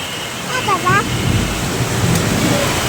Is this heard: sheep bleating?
no